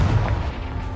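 Hogwarts Legacy's Confringo blasting spell goes off as a single loud, deep booming burst that fills the whole second with a rumbling low-end roar and no voice heard over it.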